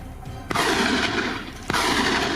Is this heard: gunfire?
yes